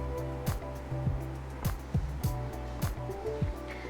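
Unsalted, unroasted flaxseed powder and water get shaken around in a bowl, giving a steady rhythm of soft knocks and sloshes, roughly every half second, close by over a low background hum.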